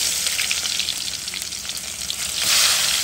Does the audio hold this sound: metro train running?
no